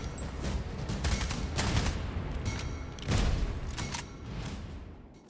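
Bursts of bullet-weapon gunfire from a futuristic shooter game demo, several clustered volleys spread across a few seconds at moderate loudness with no talk.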